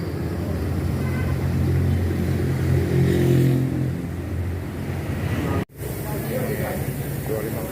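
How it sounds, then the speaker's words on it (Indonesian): An ALS intercity bus bound for Solo pulls up at the Palembang ticket office, its diesel engine rumbling loudly and steadily, swelling then easing off, with background voices and a brief cut near the end. "Akhirnya bus ALS yang ke Solo tiba di loket Palembang."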